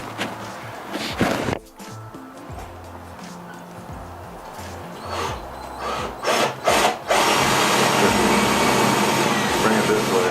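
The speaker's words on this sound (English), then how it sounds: "We're supposed to drill a 1/2-inch hole up there for the locking system to work" A power drill grinds a half-inch hole in wood in bursts, with pauses and handling noise, then runs steadily near the end; a voice is heard briefly.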